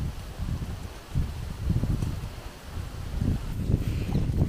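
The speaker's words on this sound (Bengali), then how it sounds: "এদিক থেকে প্রচণ্ড হাওয়া আসছে" Strong wind gusts in uneven surges across an open spot facing a stretch of water, a buffeting roar that rises and falls against the microphone.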